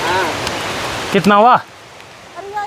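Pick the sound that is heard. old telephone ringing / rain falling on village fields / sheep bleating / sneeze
rain falling on village fields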